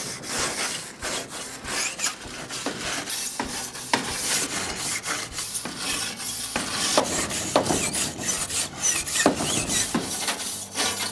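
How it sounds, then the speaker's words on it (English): A wire brush scrubs dirt and old caulk residue off a greenhouse frame, a steady, close, rasping scratch made of quick back-and-forth strokes that continues for the whole stretch with no talking. "now I'm going to use a wire brush to clean up some of the dirt and any of the caulk residue"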